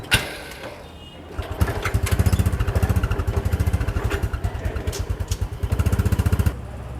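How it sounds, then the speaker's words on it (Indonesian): A motorcycle engine putters up and revs into a fast, throbbing rhythm as it is ridden around a campus area, running loud and close with slight surges before dropping back near the end. "Motornya dibawa untuk keliling area kampus dulu sebentar"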